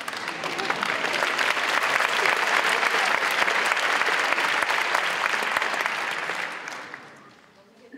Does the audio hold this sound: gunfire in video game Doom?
no